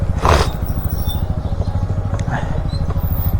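A motorcycle engine idles steadily and close while the bike is parked beside a hotel in Tripura during a touring ride, with a low continuous throb and a brief louder burst near the start.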